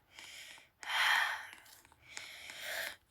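A woman with a cold breathes heavily through congestion: three long, breathy rushes of air, each about a second, close to the microphone with short pauses between them and no speech.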